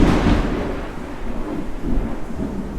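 Heavy tropical rain pours steadily while thunder rumbles low and continuous beneath it, loud and close, with no voices over the storm.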